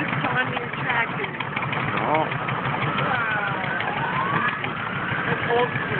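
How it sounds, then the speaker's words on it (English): A small old tractor rolling along in a small-town parade, its engine chugging steadily in the background beneath nearby people chatting throughout. "Look at this tiny tractor."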